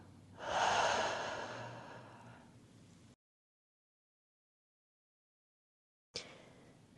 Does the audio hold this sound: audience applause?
no